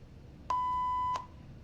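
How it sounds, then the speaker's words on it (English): A single clean electronic beep sound effect from CapCut, a steady pure tone lasting just over half a second with sharp onset and cutoff, alone over faint background hiss. "Let's try a beep."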